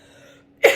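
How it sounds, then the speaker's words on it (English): A single sharp cough bursts out near the end, close and loud, following a stretch of faint background hum. "I'm so sorry for coughing like this."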